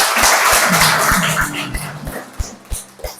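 A fourth-grade elementary school class clapping their hands together in a classroom, loud and close, with a busy stream of claps that thins into a few distinct, punchy claps toward the end.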